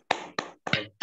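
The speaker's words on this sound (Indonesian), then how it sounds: "Kita beri aplaus, tepuk tangan." Brief clapping from a webinar audience, three or four short bursts of hand claps spread across about a second, fairly close and moderately loud, with no talking.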